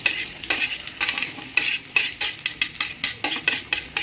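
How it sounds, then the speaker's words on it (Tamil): Onions sauté in a pan with mustard and fenugreek seeds for a prawn curry, with a close, bright sizzle pulsing under rhythmic spatula strokes that scrape and clink against the pan about twice a second, and no talking. "இப்போ வெங்காயத்தை போட்டு வதக்குறோம்"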